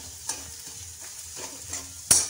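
Egg chowmein stir-fried in a pan, with a steady close sizzle and a few scraping, tossing clatters of the utensil against the pan, ending in a sharper knock; no talk.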